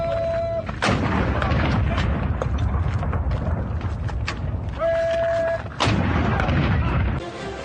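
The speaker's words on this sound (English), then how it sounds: "Cannons firing at 9-second intervals." Ceremonial salute cannons fire loud booming blasts, two heavy reports standing out several seconds apart over a continuous rumbling background.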